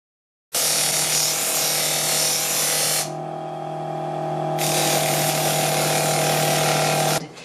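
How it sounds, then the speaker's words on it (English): An electric disc sander whines loudly and steadily as it sands a small scroll-sawn wooden jewelry box, the tone dipping when the piece presses against the disc, then brightening again before the motor cuts off. "You need to make sure your disc sander table is at 90-degree angle."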